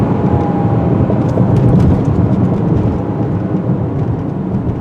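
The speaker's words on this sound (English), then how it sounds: "it does sound like what it is, a little whirring 4-cylinder" A 2022 Kia Sorento X-Line SX-Prestige four-cylinder engine accelerating, heard as a loud, broad, rumbling whir with road and wind roar that holds steady and eases slightly toward the end.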